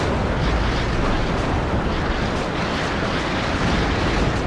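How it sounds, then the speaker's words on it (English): Rocket strikes slam down in the WARNO war game, a dense, continuous roar of overlapping explosions with no pauses, loud and close throughout. "Here come the rockets once again."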